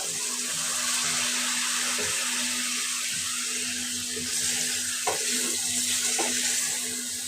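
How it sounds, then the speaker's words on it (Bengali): A little water poured into a hot pan of fish curry gives a steady, rushing, hissing sizzle, broken by a couple of light knocks near the end. "এই যে একটু পানি দিয়ে দিল"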